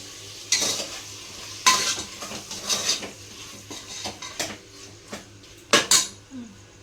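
Mutton simmering in oil with onion paste, tomato paste, salt and turmeric is stirred in a pan: a spoon scrapes and clinks against the metal in irregular bursts over a soft, steady sizzle.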